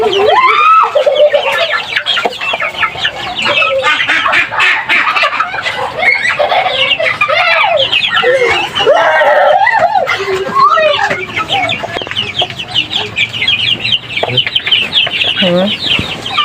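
Young chicks in a coop peep and chirp continuously and loudly, with clucking fowl nearby and a person talking over the flock.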